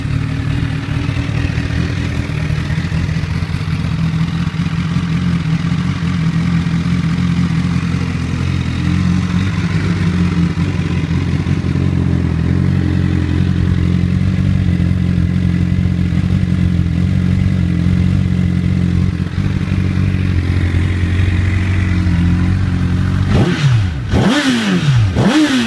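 A 2008 Honda CBR1000RR sportbike engine runs at a loud, steady idle close up, a constant throaty hum that holds for the whole stretch before a brief sharp rev and clatter at the end.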